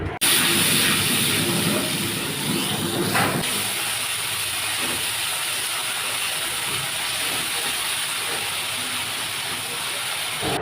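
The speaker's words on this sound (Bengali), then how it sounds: "ভেজে আসা পেঁয়াজে মশলার মিশ্রণটা দিয়ে কষিয়ে নেব।" A spice mixture sautés with fried onions in a pan, a steady hissing sizzle throughout with a brief louder scrape of stirring early on, and faint background noise.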